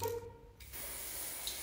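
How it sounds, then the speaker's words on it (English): A steady, close aerosol hiss begins after a brief moment and continues evenly for about a second. "Hold can upright 10 inches away and spray from side to side in short bursts."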